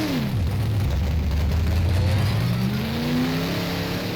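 A Big Block Modified race car engine in rFactor on a dirt track at Chowchilla Speedway revs steadily and loudly, its pitch sweeping down, holding, then climbing again as the car accelerates, with no talking.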